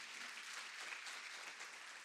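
Steady applause from a church congregation clapping together, filling the whole stretch evenly with no voices over it.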